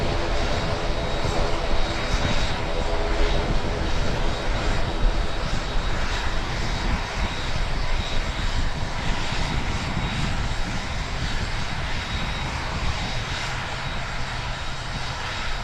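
A propeller airliner engine drones steadily at Tauranga airport, a loud, continuous low rumble and whine that holds with no breaks throughout.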